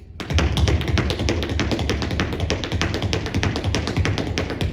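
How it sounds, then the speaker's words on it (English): Tap shoes rattle off spank, heel, step patterns at very fast speed on a hard floor, a dense, continuous stream of close, sharp clicks with no talking. "If I wanted to do it turbo speed,"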